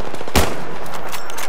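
A burst of loud close gunfire in a hardcore-mode shooter video game, one sharp crack followed by dense rapid shots and noise over the short span.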